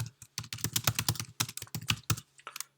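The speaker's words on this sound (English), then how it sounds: "type the comments in here" Rapid keystrokes on a computer keyboard while entering grading comments in Moodle 2.8, a close, steady burst of clicks that pauses briefly near the end before a few final taps.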